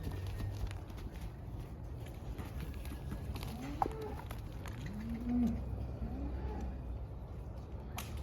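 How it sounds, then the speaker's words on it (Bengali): Cattle are led out of their pen at night on a cow farm in Saudi Arabia, with a faint, low moo midway over a steady background hum and scattered shuffling and knocks. "গরু কিন্তু বের করা হচ্ছে অলরেডি সেট থেকে।"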